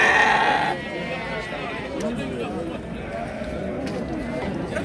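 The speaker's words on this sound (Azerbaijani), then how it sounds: "Erkəkli dişli quzular." Lambs at a sheep market bleat in short, scattered calls, some near and some farther off, over a busy background where people talk throughout.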